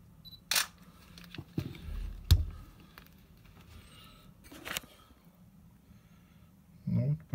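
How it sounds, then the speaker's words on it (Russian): A single-lens reflex camera shutter release firing during a focusing demonstration with a dandelion as the subject: a few sharp, separate mechanical clicks spread through a quiet room, with faint handling noise and no speech. "И тогда кнопка затвора сработает до того момента, пока нет резкости"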